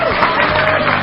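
An audience at a stand-up comedy show claps loudly and steadily for a moment.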